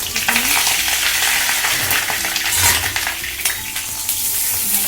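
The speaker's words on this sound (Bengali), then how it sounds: "সাদা তেল দিয়ে প্রথমে আমি আলুগুলোকে এবারে ভেজে নেব।" Potatoes frying in hot white oil in a wok, giving a loud, dense, continuous sizzle with faint occasional stirring, close up and with no voices.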